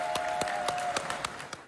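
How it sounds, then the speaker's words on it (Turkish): Guests at a wedding held in a bomb shelter applaud, a scattered round of claps close by with a faint steady tone underneath. "alkış sesleri yükseldi"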